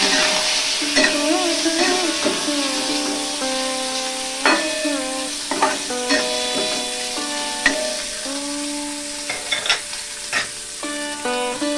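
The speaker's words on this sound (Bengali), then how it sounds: "এবার একটু নেড়ে চেড়ে দেবো।" Boiled potatoes fry in a wok with a constant close sizzle, broken by irregular scrapes and clinks of a spatula stirring them, some sharper knocks standing out.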